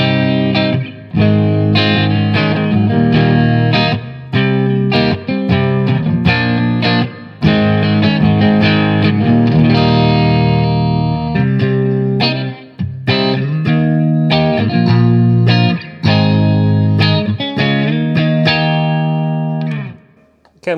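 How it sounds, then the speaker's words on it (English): Electric guitar played through a Blackstar HT Stage 100 MKIII valve amp with its built-in reverb on, loud sustained chords and picked notes ringing out with short breaks between phrases, no voice. "There's a dark mode and a light mode. I think one is more of a hall reverb and one is more of a big room reverb"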